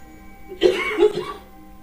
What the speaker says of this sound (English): Don't cough.